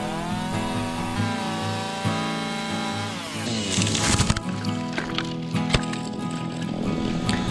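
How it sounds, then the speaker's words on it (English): Chainsaw cutting down a small dead maple tree, its engine droning and rising in pitch, then a rougher burst of cutting with crackling and woody rubbing noises; loud and close, running continuously. "This little maple tree died last summer, and it's time to cut it down."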